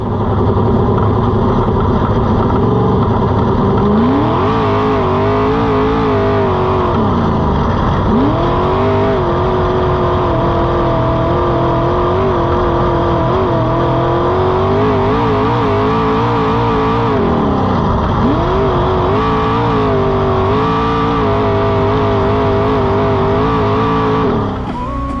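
Race cars roar and rev at Petaluma Speedway, engines loud and continuous, with rising and falling pitch sweeps as cars accelerate past, close and dense throughout with no talk.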